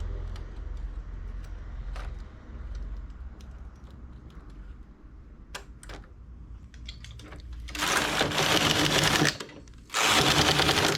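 A knitting machine carriage runs across the needle bed as rows are knitted, with quiet clicks and shuffles first, then two loud rattling mechanical sweeps close by, separated by a short pause.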